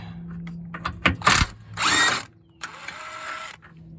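Ratchet clicks and tool noise while removing a front engine mount bolt on a Dodge Avenger, with bursts of rapid mechanical clatter and a sustained whirring run, close and fairly loud.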